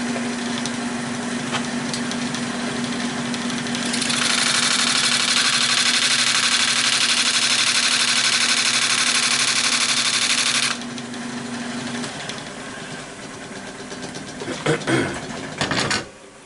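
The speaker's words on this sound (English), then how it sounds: "Go a little bit deeper, and then I'll start nibbling away with the bowl gouge." Bowl gouge cutting a pine bowl spinning on a wood lathe: a steady motor hum becomes a loud, bright, continuous shearing hiss for several seconds, then drops back to the running lathe with a few knocks near the end.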